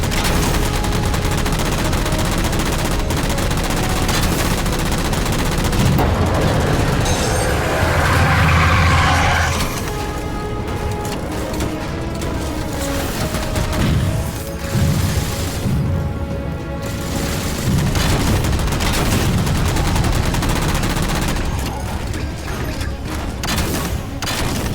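Sustained bursts of gunfire from Halo 4 gameplay as jammers are shot down, dense and loud throughout with booming impacts layered over a continuous game soundscape, no talk.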